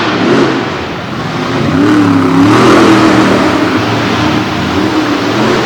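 The Raminator monster truck's engine roars at a monster truck event in Du Quoin, Illinois as it races across the finish line, a loud, continuous revving drone that swells and holds, heard from a distance amid crowd noise.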